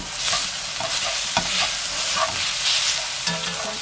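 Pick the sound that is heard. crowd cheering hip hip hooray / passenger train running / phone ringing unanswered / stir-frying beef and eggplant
stir-frying beef and eggplant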